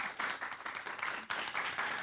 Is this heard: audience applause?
yes